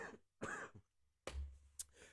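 A man's single throat-clearing cough, followed a moment later by a second cough, close and fairly loud with brief pauses between them.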